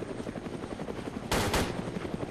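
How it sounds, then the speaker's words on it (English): A helicopter in the military video game ArmA 2 sweeps past overhead as a low steady rotor drone, with a short loud burst of noise near the middle of the clip. "the chopper's coming back around for another pass over me"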